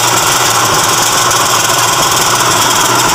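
Mitsubishi Strada pickup engine idling steadily with a dense, loud, even rumble and a faint knocking undertone, heard close up in a workshop with no talk.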